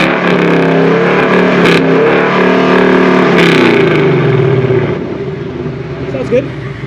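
A car fitted with long tube headers revs hard in track mode, a loud raspy engine roar rising and falling before settling toward idle, with people talking over it.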